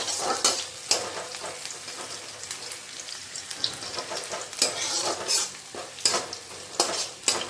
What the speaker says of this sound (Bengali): একটু লাল লাল মতো ভাজা হয়ে গেল।